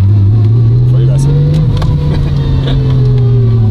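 The turbocharged VR6 engine of a heavily tuned VW Golf 3 roars at full throttle from inside the car, a loud, steady drone rising slightly in pitch as the car accelerates.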